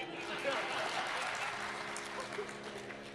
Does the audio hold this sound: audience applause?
yes